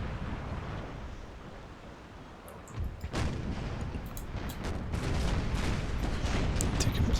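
Cannon broadsides from 90-gun sailing warships in the naval battle game Empire: Total War, heavy booms rumbling over a constant wash of wind and sea, growing denser and louder in the second half.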